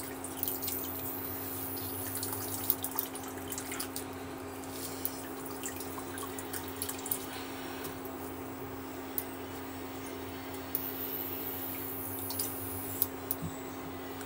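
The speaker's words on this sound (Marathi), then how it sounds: "यातलं पूर्ण पाणी काढायचं आहे नितळून" Water running and dripping steadily from boiled spinach as it is drained, about 300 grams reduced to a small heap, with a constant low hum and scattered small drips and splashes, quiet and continuous with no talking.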